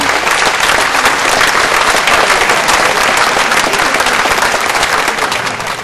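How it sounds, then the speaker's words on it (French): An audience applauds costumed performers at a Provençal costume presentation, sustained heavy clapping from many people, loud and even throughout, with no talk on top. "je pense qu'on peut applaudir Elisa et Samantha."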